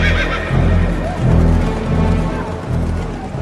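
Horses neigh and whinny loudly while hooves clip-clop in a steady rhythm close by, with a rumbling, busy background.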